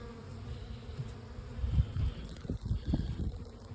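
Honey bees buzz close by during an inspection of a Layens hive. The hum is steady and low, with single bees swelling louder as they pass, all heard alone without speech.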